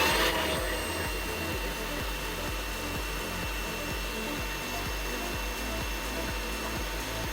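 A Ridgid cordless leaf blower runs steadily nearby with a constant airy whoosh and motor hum, a few faint pulsing beats underneath, no talk over it.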